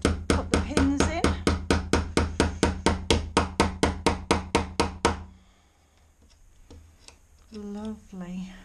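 Pins are hammered into a broken wooden window frame in a fast, even run of about twenty sharp close knocks. Then the hammering stops and a person speaks briefly.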